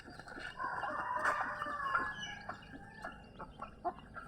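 Chickens clucking softly nearby with a rooster crowing in a drawn-out call early on, followed by scattered clucks at moderate-to-faint level.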